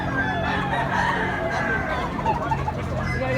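Chickens at a rooster sale in Tabunok, Cebu, clucking and crowing close by in a busy outdoor setting, with people talking in the background throughout.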